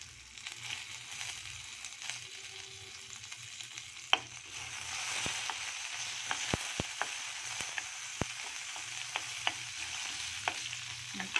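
Ginger, garlic and chili fry in oil over a low flame for dhaba-style shahi paneer, a steady soft sizzle under intermittent scraping and tapping of a spoon stirring in the pan.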